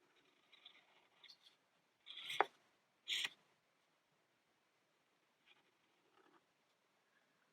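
Paper being snipped with scissors to cut out a thumb shape for a candy pop art painting, a few short crisp cuts close by with quiet pauses between them.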